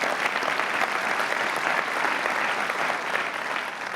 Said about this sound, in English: So let's give everyone a round of applause as well,